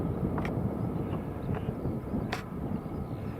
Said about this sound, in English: British Airways from Aberdeen to London Heathrow. A321neo. Just going overhead here in Northumberland.